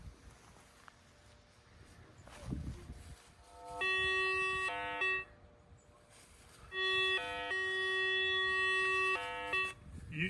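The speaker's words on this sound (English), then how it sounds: "you have two different kind of sound. It's because there is a big target, but also because it's a ferrous." XP metal detector sounding over a large ferrous target, giving two bursts of stepped, warbling electronic tones at moderate level over low background hiss.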